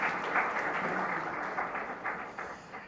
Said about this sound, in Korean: 이 외통위 위원님들께 큰 박수 한번 부탁드리겠습니다